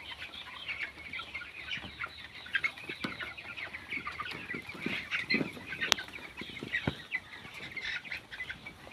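Many broiler chickens in a village poultry farm housing about 1,200 birds cluck and chirp together in a dense, continuous chorus, with occasional sharper calls and a bit of wing flapping.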